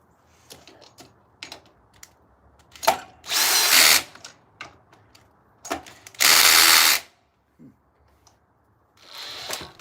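A power drill used while carving a little wooden bear, with two loud, steady bursts of whirring about a second long each and a third starting at the end, separated by clicks, taps and handling noises.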